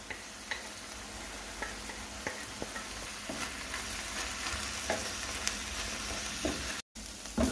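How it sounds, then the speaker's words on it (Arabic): Onions, peppers and garlic frying together in a pan, a steady close crackling sizzle with occasional sharper pops and stirring clicks throughout, no voices. "وهنا نضيف البصل والفلفل مع الثوم، ونكمل نقليهم مليح مع بعض"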